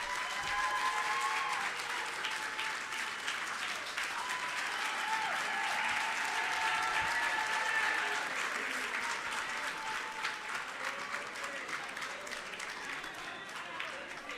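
Delegates at a Commonwealth Hansard editors' conference in Africa applaud a speaker, a long dense wash of clapping from a large hall audience that holds steady and slowly eases, with murmuring voices mixed in.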